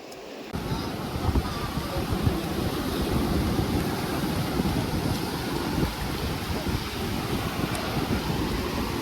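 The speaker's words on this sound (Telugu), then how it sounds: "ఈ అలలు ఇవన్నీ చూస్తుంటే" Sea waves break on Kothapatnam Beach in a loud, continuous roaring wash, heavy with gusting wind noise across the microphone.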